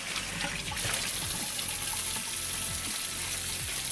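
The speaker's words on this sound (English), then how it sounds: "We're just going to rinse this out in cold water." Cold tap water runs into a kitchen sink as bean sprouts are rinsed, a steady close splashing rush with small knocks and clatters of the sprouts and container throughout.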